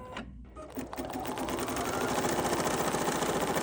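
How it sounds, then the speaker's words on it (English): An in-the-hoop embroidery machine stitches the first outline line of a greeting card, a steady rapid mechanical whir with fast needle pulses that grows slightly louder and runs continuously throughout. "now we're just going to stitch that first line to know where to put our card"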